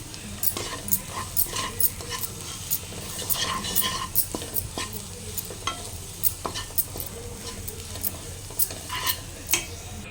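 Ivy gourd fry with chilli powder being stirred in a pan, repeated scraping and clinking strokes at an uneven rhythm over a low, steady sizzle, close by and with no speech.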